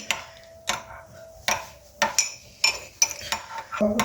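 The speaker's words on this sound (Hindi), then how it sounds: "इससे अच्छा सा मिक्स कर देना है केचप को इसके अंदर।" Spoon stirring ketchup into a vegetable and chicken soup in a pot, with sharp metallic clinks against the pot sides at a steady rhythm, about eight close, loud taps alone.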